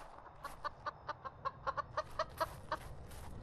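A chicken in the horror game Evil Nun: The Broken Mask clucks in a quick series of about a dozen short, evenly spaced clucks, clear and alone.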